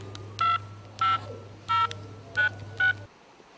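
A mobile phone keypad plays five short, bright dialing tones at uneven intervals over a low steady hum, each beep clear and close, and then the hum cuts off.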